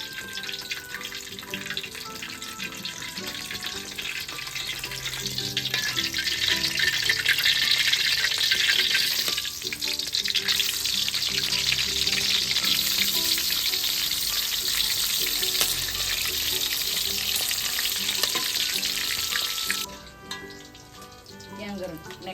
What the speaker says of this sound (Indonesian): Tongkolnya digoreng dulu.